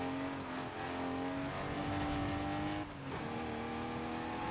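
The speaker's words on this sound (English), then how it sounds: "This KTM's very fast already, I can just tell." KTM car engine in Forza Horizon 5 revving hard at high pitch, a steady strained drone with shifting harmonics and a brief dip near the three-second mark, loud and continuous with no talk.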